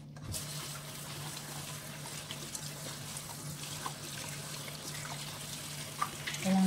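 Running tap water splashes steadily while salted cabbage, soaked in sea salt, is rinsed by hand in a sink for homemade Korean kimchi, a continuous moderate wash with a few small clinks near the end.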